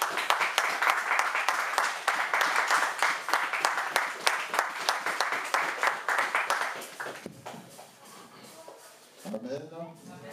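A church congregation applauds during a French-language service, with dense, loud clapping for about seven seconds that thins out and then fades. A voice speaks briefly near the end.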